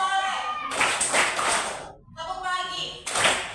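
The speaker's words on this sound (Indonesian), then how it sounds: "Tepuk sore 3 kali." A group plays a clapping game, with bursts of close, crisp hand clapping set among voices chanting together and a short pause between the rounds.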